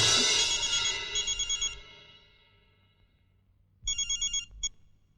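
An electronic telephone bell rings loudly in a scene from a Marathi comedy film, a fading ring followed by a silent gap and then a second burst of rapid pulsed trills.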